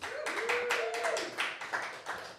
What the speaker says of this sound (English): Round of applause for Ralph, please